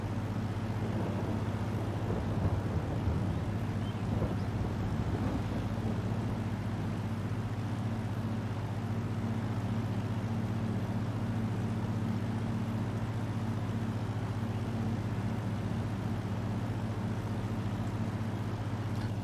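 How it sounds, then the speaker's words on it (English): Vintage tractor engine in the Farming Simulator 22 video game, a steady low droning hum with a constant tone that runs unchanged throughout, even and continuous with no talk over it. "Do love this tractor."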